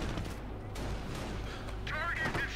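A .50 cal machine gun fires a burst in the video game Company of Heroes, with heavy, rapid booming shots over rumbling battle noise and a voice talking alongside.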